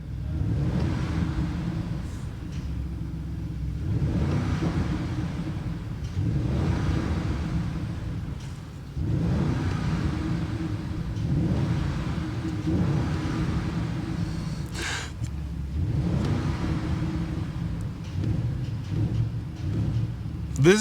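Audi RSQ8 exhaust in dynamic mode, a deep rumbling engine note that rises and falls in several surges of acceleration, heard from inside the car with the window down.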